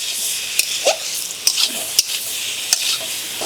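Half-boiled kohlrabi stirred into frying masala makes a bright, steady sizzle, broken by several sharp spoon knocks and scrapes against the pan, close up and without speech.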